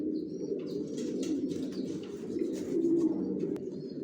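Top-quality racer pigeons coo in low, rolling murmurs, several birds overlapping continuously at close range, with faint chirps and a brief wing flutter, and no talk.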